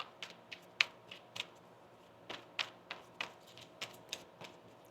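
Tarot cards being shuffled in a quiet room, with about a dozen crisp, papery snaps and flicks spaced irregularly and no voices.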